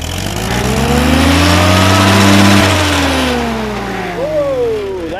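Engine on an H tractor revved a little off idle, a loud close mid-pitched drone that rises and falls unevenly with a few surges, heard alone.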